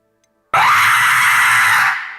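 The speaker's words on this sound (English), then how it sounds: "there's Kit with her scream" A female video game character in a Hogwarts game lets out a sudden, loud, sustained scream lasting about a second and a half before it fades off, heard alone with no talk.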